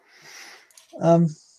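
A short sharp intake of breath followed by a single loud, voiced sneeze burst, close to the listener.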